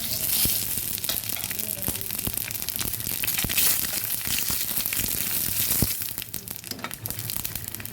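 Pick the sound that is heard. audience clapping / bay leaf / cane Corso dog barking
bay leaf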